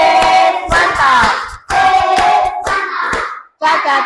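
A classroom group of Indonesian religious-education students claps an appreciation rhythm together, loud, sharp hand claps in quick bursts with short pauses between phrases, a few voices mixed in.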